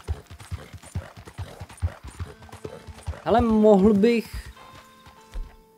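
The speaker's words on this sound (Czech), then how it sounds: "Máme koně." Rhythmic hoof clip-clop of a horse walking in Red Dead Redemption 2, steady close thuds followed by a loud neigh, with someone talking over the steps.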